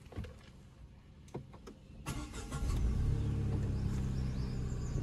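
A 2023 Tata Nexon engine cranks and starts up close, a short starter churn followed by a steady, low idle rumble that settles and continues to the end.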